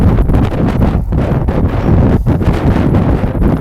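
Strong wind buffets the microphone in a continuous roaring rumble, gusting unevenly with no voices heard.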